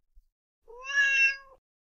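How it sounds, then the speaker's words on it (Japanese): A cat meows once in the video game No Ghost in Sky Elevator, a clear, close, drawn-out mew with no other sound around it. "猫。"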